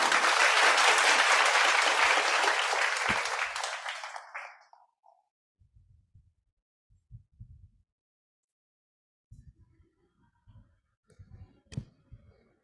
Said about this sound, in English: Let us welcome, with a round of applause, Dr. Julius B. Maligdem for his tribute address